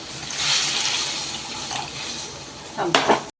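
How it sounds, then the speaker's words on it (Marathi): Water poured into a cooking pot for simmering shengole, a traditional Marathi dish of gram-flour dough coils in spicy curry, making a steady watery rush with a brief splashy clatter near the end. "पोळी शिजण्यासाठी आपण पाणी टाकून घेऊया"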